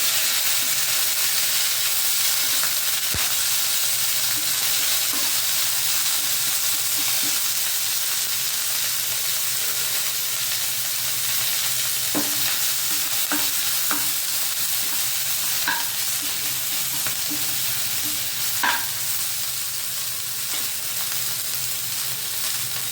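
Moringa leaves frying and being stirred in a pan, a steady loud sizzle throughout with occasional scraping clicks of the spoon against the pan, no voices.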